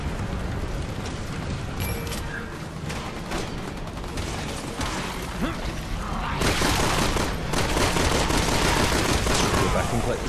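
Gunfire in the video game Resident Evil 6, a dense continuous crackle of shots with a louder burst in the second half, mixed with game noise and muffled talk throughout.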